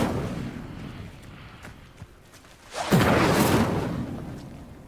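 A fire spell cast in a wizarding video game: ambient game noise, then a sudden loud whooshing burst of flame near the three-second mark that roars on and slowly fades, with no talking.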